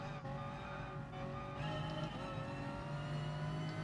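Race car engine in the video game GT Sport, a steady sustained drone with layered harmonics, holding fairly loud and even throughout, slightly rising in level partway through, with no talk over it.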